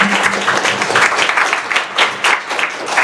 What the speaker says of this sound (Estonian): Margit, aplaus.